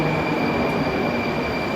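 Moscow metro train on the city's oldest line, heard from the platform as a steady, loud rumble of rolling carriages with a constant high whine, no clear clatter or braking.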